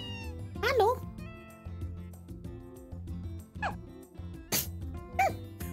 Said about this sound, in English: Hello, kitty cat. I hear you meowing.